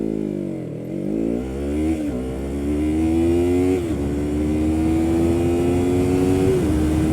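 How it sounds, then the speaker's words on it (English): Yamaha MT-03 motorcycle accelerating hard from a standstill, engine revving up through several gear changes with rising pitch, loud and steady throughout. "we will accelerate from 0 to 100, and we will check out how fast does this bike accelerate"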